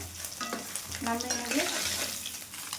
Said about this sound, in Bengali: সবগুলো মাছ এভাবে ভেজে নিয়েছি